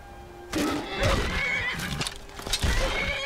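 A horse in the video game The Elder Scrolls V: Skyrim whinnies loudly, followed by further neighs and snorts with a few hoof clops, close and clear with no talking.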